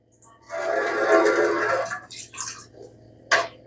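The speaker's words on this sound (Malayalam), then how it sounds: "വേസ്റ്റ് വാട്ടർ ഔട്ട്ലെറ്റിൽ കൂടെ വെള്ളം വന്നു തുടങ്ങി കേട്ടോ." Waste water outlet of a home water purifier running, a steady watery splash and flow lasting over a second, then a few short drips and a brief final gush, fairly close with no talk.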